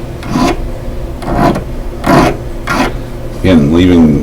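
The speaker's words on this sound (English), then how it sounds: "First thing I'll do is file the prongs smooth." Hand file smoothing the metal prongs of a diamond ring, five close, raspy back-and-forth strokes in a steady rhythm, ending with a brief voice-like tone.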